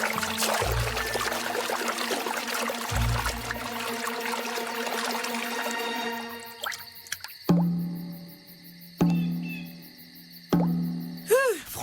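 Cartoon ninja drip torture: after a stretch of busy music, three or four slow, separate water drops land one by one with plops that ring out clearly and close against near silence.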